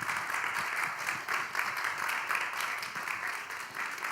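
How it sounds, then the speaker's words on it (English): Audience applause after a panel session at the Maschinenhaus in Berlin's Kulturbrauerei, a steady wash of clapping at moderate level lasting throughout with no voices on top. "I think they deserve a really big applause"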